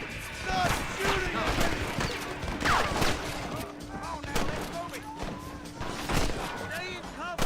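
Gunfire from a shootout in the video game Red Dead Redemption, scattered cracking shots throughout under game music, with voices shouting over the fight.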